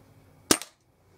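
A single sharp report from a Weihrauch HW97 air rifle, a crisp crack followed almost at once by a fainter second snap, then quiet.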